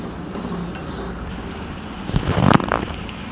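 Sago pearls roasting in ghee in a pan, heard as a low steady frying hiss with spoon-against-pan scrapes and clinks that build to a brief louder burst near the end.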